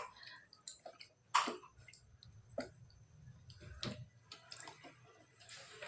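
Thin potato wafer slices are swished and washed by hand in a bowl of water, giving faint scattered splashes, drips and small clicks with quiet gaps between them.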